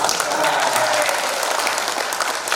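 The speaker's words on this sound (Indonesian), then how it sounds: "Tepuk tangan nggak Bapak?" Audience applause at an Indonesian gathering with a DPR RI member present, steady dense clapping throughout with a faint voice or crowd murmur mixed in.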